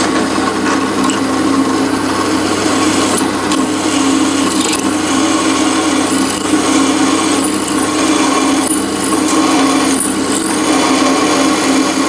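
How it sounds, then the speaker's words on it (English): Power drill boring a hole while building a bench grinder tool rest, a steady loud whirring grind that runs continuously and close up, with no talk. "so I'll drill a hole and see how it all turns out."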